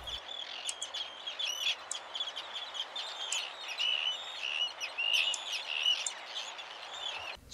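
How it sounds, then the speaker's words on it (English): Savannah Sparrows and other nesting land birds sing in the grassy interior of Matinicus Rock island. Several birds chirp and trill in overlapping, continuous song, moderately near, with no talking. "several nesting land birds, the most common of which is the Savannah Sparrow"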